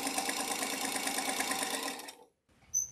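A sewing machine stitches potato chip quilt blocks together in a steady, fast, loud mechanical whir for about two seconds, then stops abruptly, followed by a brief quiet and a faint clunk.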